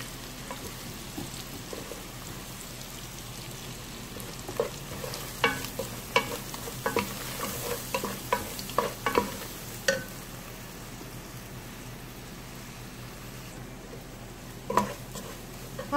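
A spoonful of flour is stirred in a pan for molokhia with shrimp, producing a soft constant sizzle under scraping strokes and clinks of a spoon against the pan, clustered in the middle, with no talking.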